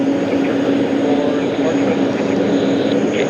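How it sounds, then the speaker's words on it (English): An airliner at JFK spools up its other engine, giving a loud, steady whining roar with a constant low tone that holds for several seconds, with voices speaking over it. "he's starting the other engine"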